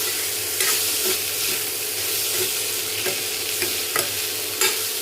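A homemade healthy snack mixture gets stirred and mixed in a hot pan, giving steady frying sizzle with soft scraping strokes and light clicks of the spoon against the pan.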